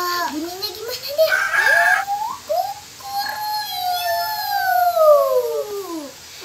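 A voice imitates a rooster crowing with long rising and falling calls, followed by an adult speaking briefly.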